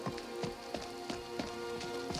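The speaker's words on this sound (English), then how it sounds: "it's literally a rainy day" Rain falling in Skyrim, a steady hiss of drops on surfaces with soft, evenly spaced thuds repeating about every third of a second, like footsteps. No voices.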